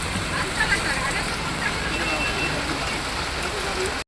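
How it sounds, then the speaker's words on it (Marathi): Steady rain patters on a surface at a town market in Kudal, a constant wash of noise with a faint murmur of people in the background. "आता मात्र थोडा थोडा पाऊस येतो"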